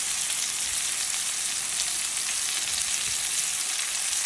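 Steak frying in a hot pan, a steady close hiss and crackle of sizzling fat that stays even and unbroken throughout, with no talking over it.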